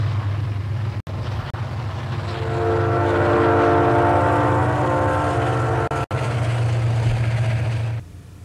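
A train rumbles past with a sustained horn blast over the rolling noise, loud and close, fading at the end.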